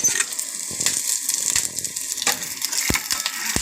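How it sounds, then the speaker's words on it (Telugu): Dried red chillies and curry leaves, with garlic, sizzle and crackle in hot oil for a red toor dal curry, with sharp pops and crunchy crackles over a steady hiss, close by. "ఇవి బాగా వేగాలండి. ఎండుమిర్చి, కరివేపాకు అండి."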